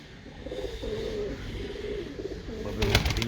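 Several pigeons coo in soft, repeated rolling phrases nearby in a breeder's loft, calling through most of the stretch, with a brief burst of rustling or flapping near the end.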